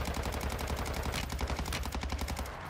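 Rapid sustained automatic gunfire from a Call of Duty Warzone team firing together, a loud dense stream of shots that continues without pause and fades slightly at the end.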